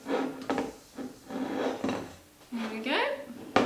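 Chocolate buttercream stirred in a bowl with a spoon, giving repeated scraping and clinking strokes of utensil against the bowl, close and fairly loud, with short pauses between strokes and no talking.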